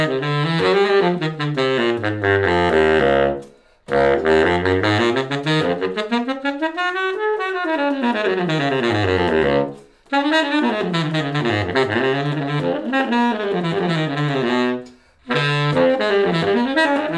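Baritone saxophone with a Van Doren B5 V16 mouthpiece running fast melodic phrases that sweep up and down in pitch, loud and close, broken by three short breath pauses.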